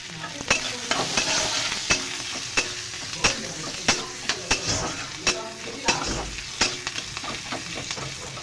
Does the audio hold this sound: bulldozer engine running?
no